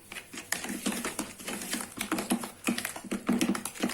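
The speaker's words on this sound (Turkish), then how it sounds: "Bunları güzelce çırpacağım." Quick, light clattering taps repeat in an uneven rhythm, a whisk beating eggs and sugar by hand in a bowl, close up with no talking.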